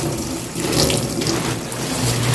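A kitchen tap runs cold water into a stoppered sink, a steady close rushing splash that swells slightly as the basin fills, with no voices over it.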